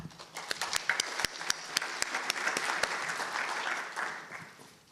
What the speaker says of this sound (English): Please give him applause.